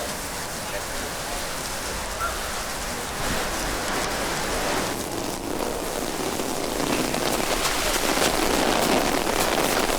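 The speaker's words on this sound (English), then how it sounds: "I'm gonna walk in the rain now." Heavy rain pours steadily outdoors at a Jamaican waterfall park, a dense, continuous hiss of drops striking surfaces and umbrellas that holds loud and unbroken throughout.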